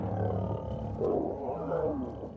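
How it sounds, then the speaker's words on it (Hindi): Wild lions in Sabi Sand, Africa, roar and growl during a fierce fight between males, deep, rumbling, overlapping calls that stay loud and close throughout. "उनके दहाड़ने की आवाजें दिल दहला देने वाली थीं।"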